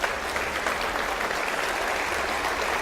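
A church congregation applauds the Lord with thick, sustained clapping from many hands, loud and even from start to finish with no voices on top.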